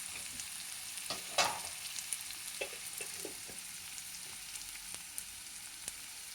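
Chopped onions with salt sizzling steadily in an oiled pan for cauliflower fry, a continuous close hiss broken by occasional stirring clicks and scrapes.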